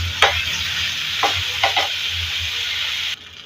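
Rice with ginger, cardamom and cinnamon stirred in a pan, giving a steady sizzle with a few short scraping strokes, close and moderately loud, ending abruptly.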